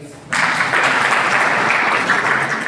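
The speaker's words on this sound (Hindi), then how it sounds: "मैम के लिए ताली बजाएं" Children in a classroom at a disaster protection camp burst into applause for their teacher, a sudden, steady round of clapping that holds evenly to the end.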